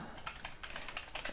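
Close, quiet typing on a computer keyboard, a quick irregular run of crisp key clicks with no talking.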